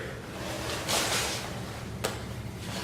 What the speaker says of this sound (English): I'm going to use a hand plane